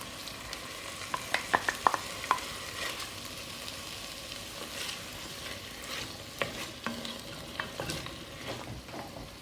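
Carrots, onions and tomatoes fry in a pot for Turkish lentil soup, giving a soft, steady sizzle broken by scattered spoon clicks and scrapes from stirring.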